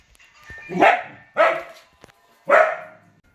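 A miniature dachshund gives three loud, close barks in slow succession, each with a rough, moaning edge and short pauses between them.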